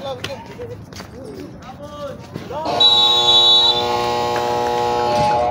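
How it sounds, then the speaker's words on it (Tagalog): A loud, sustained electronic buzzer ends the first quarter of a basketball game, sounding partway through and holding to the end, following a stretch of ball bounces, sneaker squeaks and a talking voice. "Buzzer na lang po ito"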